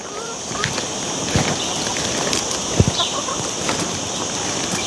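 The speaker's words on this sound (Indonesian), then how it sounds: "Ayam-ayamnya udah nungguin." Chickens clucking and fussing close by, short bursts scattered over steady outdoor background noise, with occasional louder thumps.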